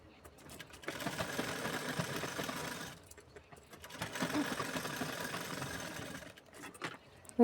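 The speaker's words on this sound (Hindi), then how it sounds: "मैंने सिलाई लगा ली।" A sewing machine runs in two sustained bursts while stitching lining to the main fabric of a blouse, pausing briefly between them. It whirs steadily and fairly loud, with a faint clack at the end.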